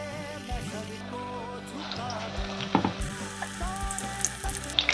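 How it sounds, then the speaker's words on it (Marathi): Gram-flour-coated bhaji frying in hot oil, a steady close sizzle and crackle for the whole stretch with a few louder pops and bubbling bursts, and nobody talking. "आपले तेल तापले, तेलात सोडूया"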